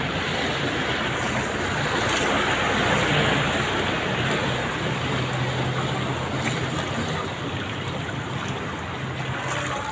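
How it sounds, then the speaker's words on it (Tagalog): Heavy rain pours onto floodwater in a flooded street, a dense, loud, unbroken hiss and wash that stays steady throughout with no voices. "Lakas pa ng ulan."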